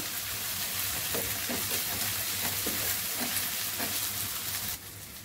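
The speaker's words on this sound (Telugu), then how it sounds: "కరివేపాకు వేసుకుందాము. ఇది కూడా కొద్దిగా వేపుకుందాము." Curry leaves sizzle steadily in hot oil in a pan, a dense continuous frying hiss with faint stirring scrapes, close by, ending abruptly.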